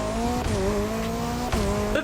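Cars in the racing video game The Crew Motorfest drive past with high revving engines and squealing tires, loud and continuous, with engine pitch shifting as gears change.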